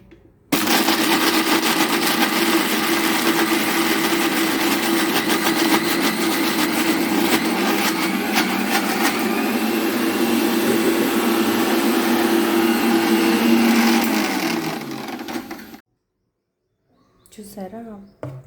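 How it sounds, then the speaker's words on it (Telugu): An electric mixer grinder blends chutney for dosa, a loud steady whine that runs for about fifteen seconds, then cuts off abruptly, followed by brief quiet and a little handling noise. "ఓకే అండి, ఇప్పుడు మిక్సీ పట్టేసుకున్నాం."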